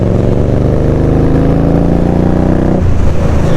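An Indian Scout Bobber motorcycle riding on a spring evening, its engine droning loud and steady at high revs before dropping to a lower, rougher note near the end.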